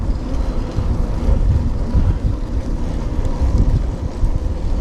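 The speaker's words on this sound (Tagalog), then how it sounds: "Mahangin ngayon." Strong wind buffets the microphone on a hilltop in Ilocos Sur, a loud, continuous rushing roar with gusty swells and no other clear sounds.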